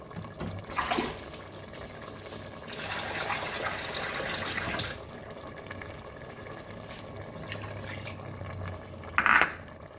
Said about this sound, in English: So we'll add 1 cup of water, which is the same cup which I took curd.